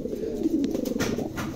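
A pair of young adult male Bukhara pigeons coo close by, a soft rolling call that swells and repeats several times in quick succession.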